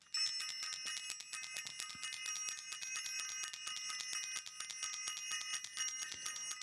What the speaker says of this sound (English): I'm going to ring the bell for all of us